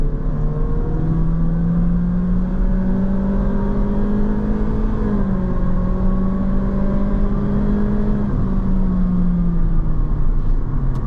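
A 2024 Honda Civic Sport Hatchback in sport mode pulls hard, its engine note climbing steadily, dipping briefly at a shift, then rising again, loud and close from inside the cabin with no talking.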